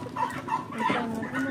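Chickens at a market give several short, close clucks in an uneven rhythm, with faint background noise and no clear talk.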